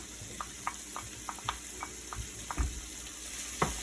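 Peas and mushrooms sizzling in a pan, a soft frying hiss broken by a string of light, regular utensil taps and stirring scrapes, close and fairly quiet.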